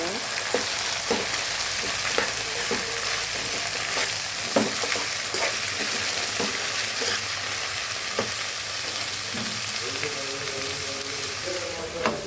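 Capsicums and onions fry in a pan with ginger garlic paste, a constant close sizzle broken by regular scraping stir strokes, with no talking.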